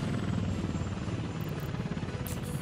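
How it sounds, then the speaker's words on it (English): A heavy cargo helicopter in the game Workers and Resources: Soviet Republic gives off a loud, continuous rotor drone with fast, even blade chop, steady throughout, with faint electronic beeps near the end. "Purchase a heavy cargo helicopter for the construction office."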